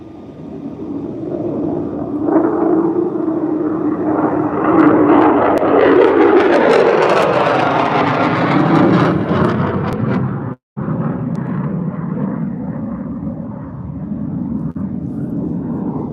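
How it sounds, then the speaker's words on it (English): An F-35 fighter jet makes a low pass over Luke Air Force Base, a loud roaring rumble that swells and sweeps downward in pitch as it goes by, then lingers as a fading distant roar. "I believe we saw also some Danish F-35s training last week, and here comes another pass"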